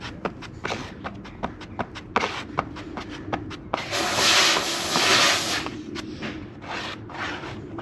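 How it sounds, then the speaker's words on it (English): Body filler being mixed and spread with a spreader on a piece of cardboard during home car bodywork: a run of short, rhythmic scraping strokes, then a longer, smoother continuous smear, close and fairly loud. "just mix it all in, keep turning it over"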